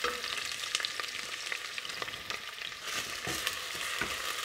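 Sliced onions and garlic fry in a pan with bay leaves and pepper, a close, steady sizzle broken by repeated scraping clicks of stirring.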